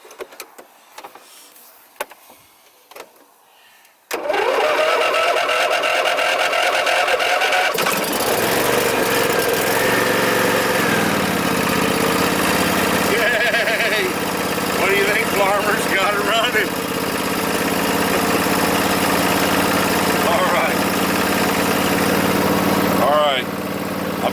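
A Gravely mower engine cranks and catches after a few clicks, then runs loud and steady at close range with a droning roar and shifting pitch, with a voice briefly at the start.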